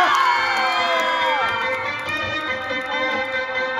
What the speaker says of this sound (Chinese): 掌声加加加